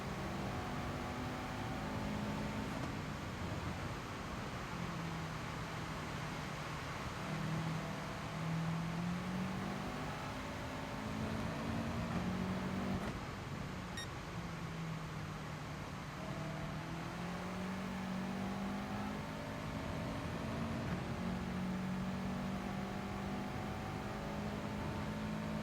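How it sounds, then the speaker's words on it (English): Engine of a Lamborghini race car in Gran Turismo Sport on a wet track, a steady droning note that rises and falls with shifts in revs, heard alone over a constant hiss of spray. "At least we can hear the engine now, anyway."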